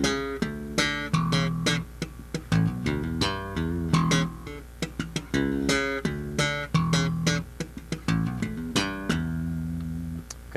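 A bass guitar lick played with thumb slaps and popped strings runs as a quick, syncopated line of punchy, percussive notes, solo and up close for about ten seconds.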